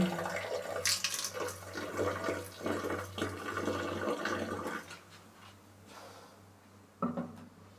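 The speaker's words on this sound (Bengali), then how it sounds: "আমরা এক বোতল শেষ করছি, আর এক বোতল ঢালার জন্য" Water from a bottle poured into a clogged toilet bowl, a soft steady gurgling pour for several seconds that tapers off, then a brief splash near the end, heard alone without voices.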